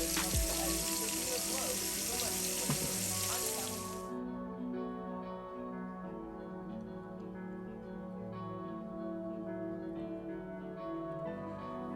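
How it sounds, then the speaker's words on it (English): Shrimp frying in a pan for garlic butter shrimp, a loud steady sizzle in the first few seconds that drops to a softer, continuous crackle with background hum. "make sure all the shrimp are touching the pan."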